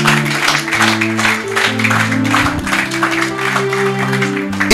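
A church congregation applauds during a Bible teaching service, steady dense clapping running throughout while sustained musical tones play underneath.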